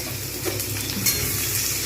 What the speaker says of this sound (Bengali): এটা আমি লাল করে ভাজবো যতক্ষণ পর্যন্ত না লাল হবে